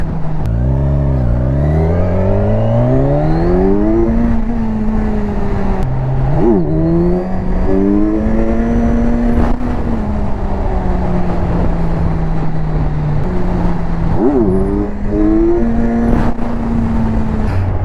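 A 2022 Kawasaki 1000 SX motorcycle engine revs up through the gears while riding, loud and close, its pitch climbing, dipping at shifts and holding steady, with steady wind rush and no talk.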